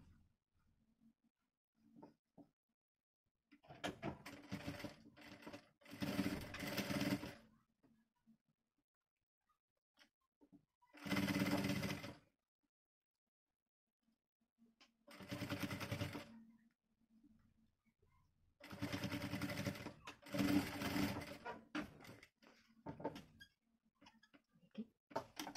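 Sewing machine stitching a toy camel in short, separate bursts of rapid clattering, each lasting a second or two, with quiet pauses between them and no one talking.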